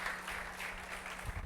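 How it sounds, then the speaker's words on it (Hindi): Applause from an audience at an education results event in Bihar, a steady wash of clapping hands lasting the whole moment with no voices on top. "आप लोग की एक तालियां इनकी ऊर्जा को और बढ़ा दे"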